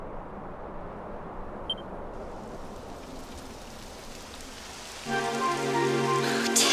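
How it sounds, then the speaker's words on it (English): Steady rain falls in the video game Dragon Quest XI, a continuous hiss that grows louder and denser near the end, with a brief chime partway through and no talking. "It would have to go and start raining, wouldn't it?"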